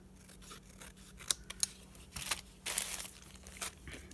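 Scissors snip through paper to trim a craft tag, giving a few sharp, quiet cuts and light crinkling rustles close by, with no one talking.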